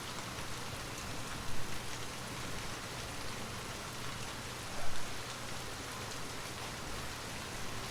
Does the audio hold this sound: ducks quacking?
no